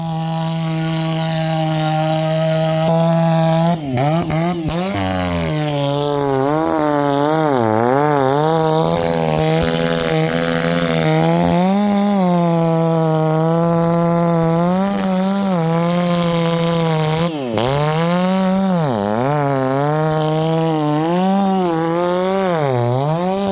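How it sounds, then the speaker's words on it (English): A Stihl chainsaw with a 36-inch bar snarls loudly and continuously cutting a big oak tree, its pitch rising and dipping as it bogs into the wood and revs back up, with no talking. "That chainsaw is really loud"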